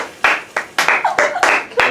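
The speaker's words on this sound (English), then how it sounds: "I want to clap." A handful of people clap in a quick, uneven flurry of sharp bursts, close and fairly loud, with no voices over it.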